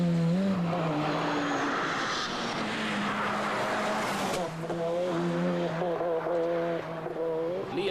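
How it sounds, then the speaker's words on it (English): A Mike Little prepared Ford Sierra Cosworth rally car on a tarmac stage of the 1989 Circuit of Ireland, its engine droning loudly and steadily with rising and falling pitch as it passes, with no talk over it. "This is Lovell, the Irish tarmac champion, also in a Mike Little prepared Ford Sierra Cosworth."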